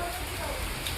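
Steady rain falls outside during a thunderstorm, an even hiss of drops on surfaces continuing throughout, with a voice faintly present alongside.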